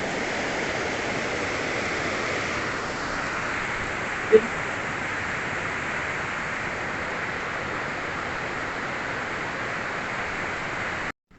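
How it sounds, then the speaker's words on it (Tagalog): A strong, clear river current rushes past on a hike, a steady loud broadband roar of flowing water close by, continuous for about eleven seconds with a single brief knock partway through. "Ang lakas ng agos."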